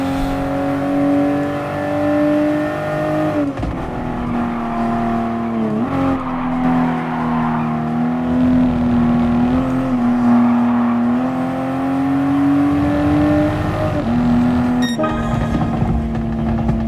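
Toyota GR Supra RZ engine in Gran Turismo Sport holding a steady, loud drone that dips and climbs again with each gear change, running continuously for the whole stretch with no talking over it.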